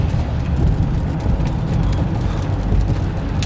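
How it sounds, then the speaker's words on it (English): Rain drums steadily on a moving car on a mountain drive, a dense, even hiss over a constant low road rumble with no pauses. "It's creepy doing all this driving in the rain."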